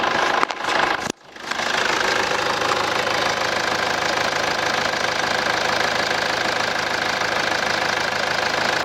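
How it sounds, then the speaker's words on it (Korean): After a brief cut and a pause, the 2.0 engine of a Hyundai Santa Fe The Style SUV settles into a steady, even idle, a continuous low rumble with no voices. "산타페 더스타의 차량의 엔진 소리 한번 들어보겠습니다"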